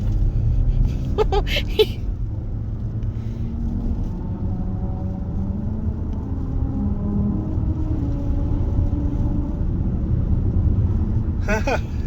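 A car rolls over the Route 66 musical road as its tires hum out the melody of America the Beautiful, the tones steady and faint beneath a constant road and engine rumble from inside the car.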